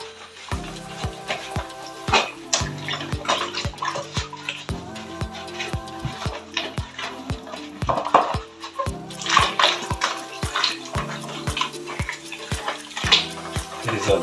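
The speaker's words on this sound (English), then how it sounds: "Wash it with a lot of soap." A fridge part is washed by hand with soap and water, giving steady splashing and rinsing with repeated knocks and clatters of plastic against a sink, close and busy throughout.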